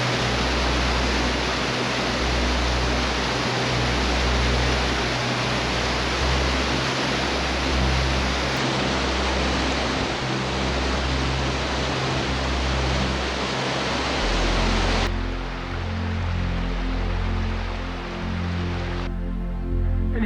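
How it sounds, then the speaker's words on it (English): Waterfall on a North Pennines hike, a constant close hiss of falling water with no talk, its steady wash changing in tone partway through as the position shifts. "A waterfall."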